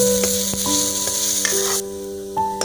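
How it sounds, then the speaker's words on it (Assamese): Onions sizzle steadily in a hot pan, with soft clicks from the spatula stirring them, near and without speech. "পিঁয়াজখিনি অলপ গলাই ল'ব লাগিব, আৰু তেতিয়ালৈকে আমি এনেদৰে ভাজি থাকিম"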